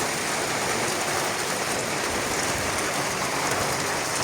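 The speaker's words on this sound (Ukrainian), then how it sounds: "Нарешті пішов дощ у нас." A summer rain shower falls on a village yard in Ukraine in June, a dense, steady hiss of drops that holds at the same level throughout with no voices.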